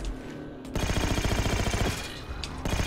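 Rapid automatic weapon fire in Halo 4 from The Master Chief Collection, a loud sustained burst of evenly spaced shots lasting about a second, set against quieter game ambience.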